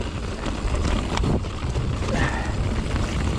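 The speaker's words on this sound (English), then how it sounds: "Wind blowing me into the side." Strong wind buffets the microphone on a golf course in a continuous roaring rumble, loud and close, with gusty surges throughout.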